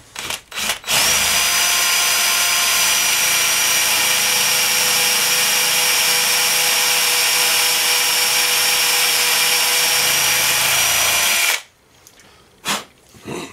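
A power drill bores steadily into a metal part on a John Deere STX38 lawn tractor, a loud, continuous whine held for about eleven seconds after a brief start, then cutting off, followed by a couple of short bursts.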